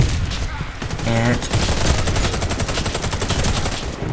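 Rapid automatic GU3 rifle fire in the Warface shooter, a dense continuous burst of shots running nearly the whole stretch, with a brief spoken word near the start.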